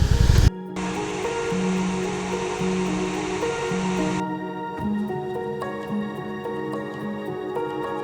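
A steady broadband rush of falling water, loud and continuous, with a low rumble underneath and no voices.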